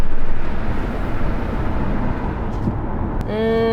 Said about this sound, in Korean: 모터가 윈도우를 최종적으로 닫아주는 속도는 나쁘지 않거든요